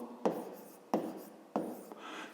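Pen on paper while working a 5th-grade maths exercise: three distinct stroke bursts, each a sharp scratch that trails off, close and fairly quiet, with no voices.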